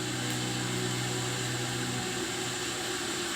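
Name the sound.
water starting to boil in a pot on a wood-fired pawon stove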